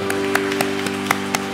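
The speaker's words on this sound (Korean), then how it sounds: "박수로 축복해 드립니다." Church congregation applauding during a Sunday service, heard as a few sharp, evenly spaced claps over a steady sustained tone in a short burst.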